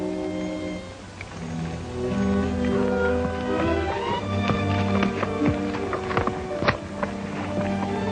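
Steady clip-clopping hooves of a horse at a walk, fairly close, over a bed of orchestral music.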